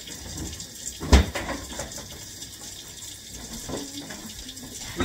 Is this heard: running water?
yes